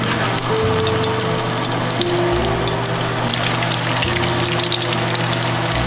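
Vegan meatballs fry steadily in hot oil, a continuous close sizzle and crackle with faint bubbling and a low background hum, no voices.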